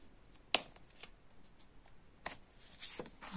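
Tarot cards placed on a table one after another, quiet papery taps and light slides with a sharper snap near the start, close and soft.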